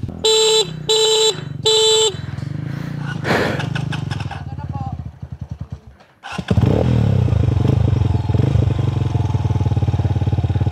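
Three TMX motorcycles on a dirt trail: a few beeping tones first, then an engine revs and fades, and after a brief dip a loud, rough engine roar passes up close.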